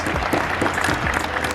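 Audience clapping at the Canadian Labour Congress Convention 2023, a short steady patch of crowd applause with a faint murmur beneath, fairly close and even in level.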